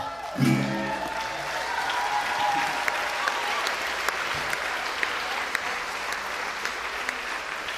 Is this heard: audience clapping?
yes